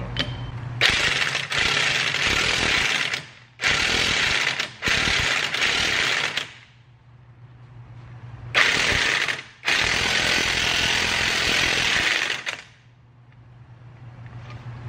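A socket fitted on a ratchet wrench worked on a car, fast loud clicking bursts repeated in several runs of a second or two, separated by quieter pauses, close to the listener.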